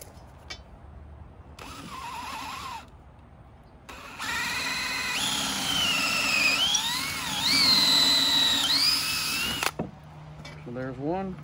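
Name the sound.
drilling a hole in a post-hole digger handle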